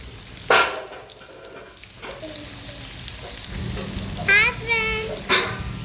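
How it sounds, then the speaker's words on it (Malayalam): A steady, close sizzle of shallots frying in oil for a fish curry continues throughout, with a couple of brief sharp sounds and a short chirping sound over it. "ചെറിയുള്ളിയാണ് കാച്ച വയ്ക്കുന്നത്"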